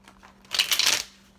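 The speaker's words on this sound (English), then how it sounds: "So I'm reordering my cards, meaning shuffling them" A deck of tarot-style cards being shuffled by hand, one brisk close riffle of papery rustling lasting about half a second in an otherwise quiet room.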